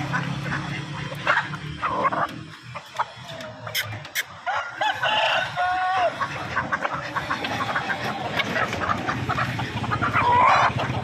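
Black chickens at a meat market cluck and squawk in short bursts amid busy market background noise. A dog seems to bark nearby, and there is some faint human chatter.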